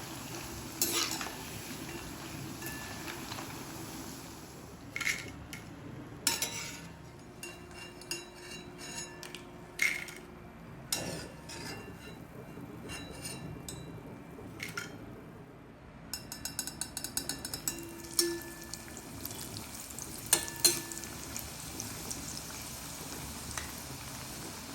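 Semolina bow-shaped puris fry in hot oil, a soft steady sizzle broken by intermittent clinks and stirring knocks of a utensil against the pan, close and fairly quiet.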